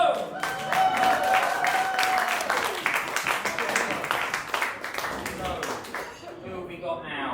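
Audience clapping at a book launch for 'Even God Gets Distracted Sometimes' at Two Bridges, a steady wash of applause filling the room for several seconds, with voices and cheers mixed in before it thins out at the end.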